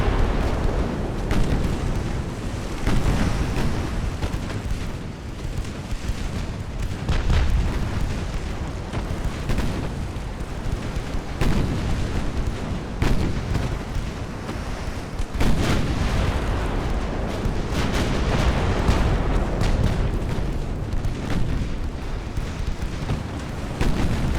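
Naval battle in the video game Ultimate Admiral: Dreadnoughts, with U.S. Navy warships of the 1890s firing: continuous booming gunfire and explosions, dense and loud, with repeated heavy thuds over a constant roar.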